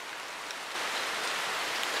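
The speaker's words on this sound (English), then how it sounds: "Just starting to get a bit of rain coming through now." Steady rain falls over a river during a sambar deer hunt, a soft even hiss that thickens partway through, with a few sharp taps at the end.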